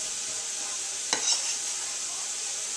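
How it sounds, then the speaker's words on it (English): Diced celery and garlic cooking in a soup pot, with a steady soft sizzle of frying throughout and a brief louder stir or scrape near the middle. "I diced some celery, and I'm just kind of browning it in the pan"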